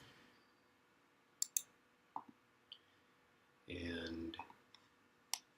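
Computer mouse clicks in software come as several crisp, separate clicks spread through the clip, with a short burst of other noise in the middle and a few words of speech.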